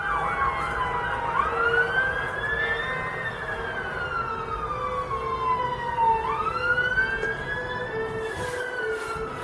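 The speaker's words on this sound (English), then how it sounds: "Cue the siren." An emergency siren wails in slow rising and falling sweeps, heard at a moderate distance over steady outdoor background noise.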